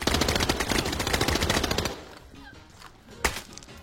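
Video game shooter gunfire: a dense, rapid burst of loud automatic shots for about two seconds, then quieter background noise broken by one more sharp single shot, no voices.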